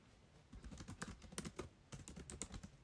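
Computer keyboard typing in a quiet room: a rapid, irregular run of close, crisp keystrokes with brief pauses, heard alone without voices.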